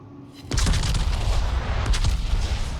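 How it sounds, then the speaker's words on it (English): Heavy naval gunfire from a warship in a video game, a dense rolling barrage of deep booms that starts abruptly after a quiet half second and then continues loud and close with no break. "Now I'm shooting out of my smoke"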